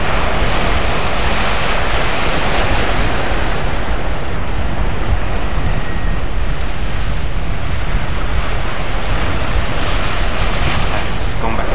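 Surf breaking steadily on a Namibian beach, a loud, continuous wash of waves with wind buffeting the microphone throughout, no distinct individual crashes standing out.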